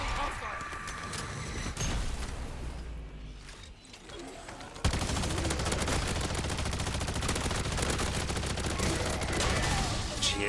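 Sustained automatic gunfire in Modern Warfare Zombies on Xbox One, a dense continuous barrage of rapid shots that drops briefly then resumes louder and unbroken for several seconds.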